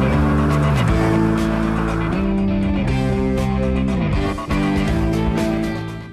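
A BMW i3 electric car drives at speed, with a steady tonal hum that steps up and down in pitch, continuous road and tire noise, and a brief dip near the end.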